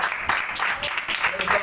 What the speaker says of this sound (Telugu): చప్పట్లు కొడుతూ